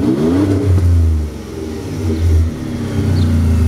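Tuned Ford Raptor engine revving hard with repeated throttle blips, its loud, rising and falling roar close by and heard alone with no talking.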